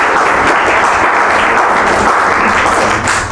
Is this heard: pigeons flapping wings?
no